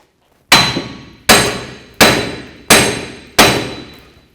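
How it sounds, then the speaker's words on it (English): Five sharp, ringing hammer blows strike a stuck wheel hub in the steering knuckle of a 2005–2016 Toyota RAV4, evenly spaced about a second apart, each loud metallic clang trailing off quickly, close and without talk. "these hubs get stuck in the knuckles, so we're gonna have to hit it with a hammer"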